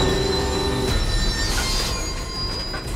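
A metro train rolls slowly through a tunnel on waterlogged tracks, a loud, steady rumble topped by a sustained high-pitched wheel squeal, with no voices.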